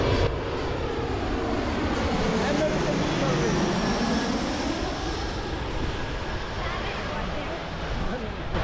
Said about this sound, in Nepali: प्लेन आयो प्लेन